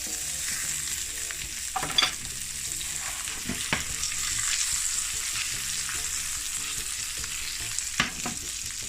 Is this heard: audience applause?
no